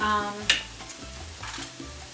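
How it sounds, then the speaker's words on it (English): Rice toasting in a pan for paella, with a sizzle and a sharp stir or scrape near the start, then softer frying hiss. "I'm going to toast the rice up a little bit before I add my broth"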